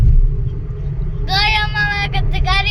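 A car on a road trip heard from inside its cabin, a low, steady engine and road rumble with a voice and other talk rising over it during the second half.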